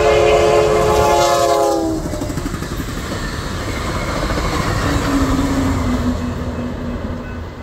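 Southbound Amtrak Cascades passenger train with an SC-44 locomotive at the rear passes close by, its horn sounding loudly at the start, then a sustained roar and wheel clatter on the rails.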